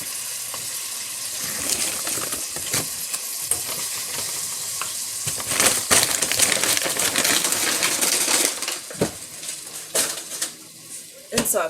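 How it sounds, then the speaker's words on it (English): Shrimp are added to a hot pan of tomatoes, with sizzling and frying under scattered clinks and scrapes of a utensil against the pan, growing busier and louder partway through. "So I put the tomatoes in here, and now I'm putting in shrimp."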